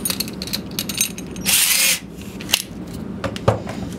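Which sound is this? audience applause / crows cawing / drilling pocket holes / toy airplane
drilling pocket holes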